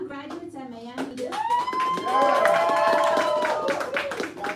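Graduation ceremony audience at a media school applauds its new graduates, with clapping mixed under loud overlapping voices and cheering throughout.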